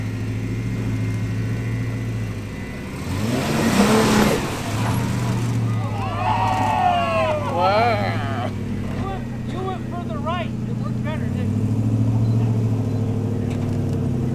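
Off-road Jeep engine on the rocky Pritchett Canyon trail, rumbling and surging as the throttle is worked, mostly under people talking close by.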